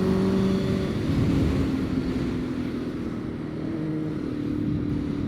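A motorcycle speeds up to pull away from surrounding cars on a road, its engine a loud, steady droning whine close by that holds throughout, with no talking.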